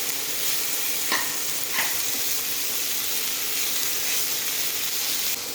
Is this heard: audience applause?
no